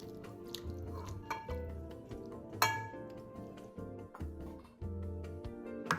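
Small heatproof bowls are set down and knocked together, with a scattering of faint light clinks and taps over a quiet kitchen background.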